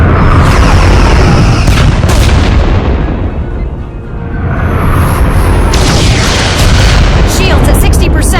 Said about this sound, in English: Fire phasers! Firing.